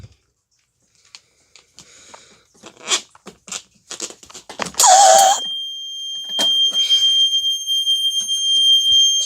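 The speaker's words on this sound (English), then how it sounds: "let's get to the fire alarm" A Wheelock RSS strobe fire alarm goes off during a system test, blaring a loud, steady electronic tone after a stretch of quieter clicks and handling noises.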